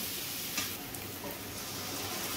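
Ginger garlic chili paste with ground coriander and cumin frying in a pan for chicken and potato curry, a faint, even sizzle throughout with a light stir near the start.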